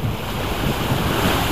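Sea waves wash against the shore under steady gusting wind, a loud, continuous rushing roar with low rumbling surf and wind buffeting the microphone, without any voices.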